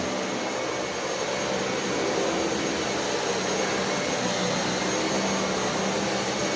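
A Dyson Cinetic Big Ball upright vacuum cleaner runs with a steady, loud broadband whoosh and a faint high whine, continuous and unchanging throughout with no voices.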